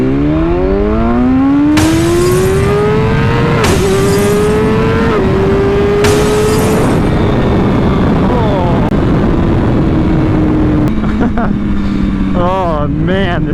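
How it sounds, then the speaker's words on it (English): A BMW S1000RR sport motorcycle accelerating hard in a power wheelie, its engine note climbing sharply through several quick gear shifts. Loud and close, with wind roar throughout, before the revs settle and fluctuate. "I'm impressed that it got up a third gear power wheelie though."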